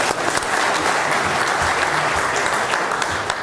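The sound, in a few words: audience applause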